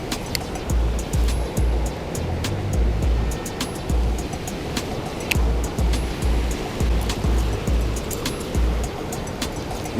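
High, fast river water rushes past in dangerous flood conditions, a loud, continuous roar with rhythmic low thumps of wind on the microphone throughout.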